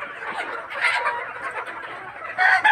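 Sonali chickens and roosters on a farm cluck and chatter continuously at close range, several birds overlapping, with a louder burst of calls near the end.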